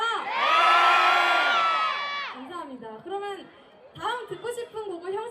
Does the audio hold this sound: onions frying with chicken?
no